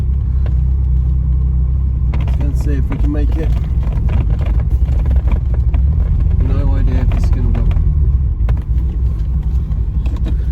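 A Ferrari 308, back on the road after twenty years off, runs with a steady low engine rumble throughout, close and constant beneath someone talking over it.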